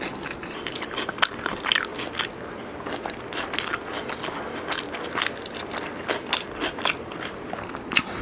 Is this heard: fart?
no